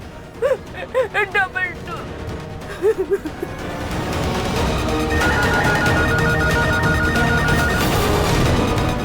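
Home telephone ringing, several short bright warbling rings in quick bursts, followed by a dense swell of dramatic music and noise that fills the rest.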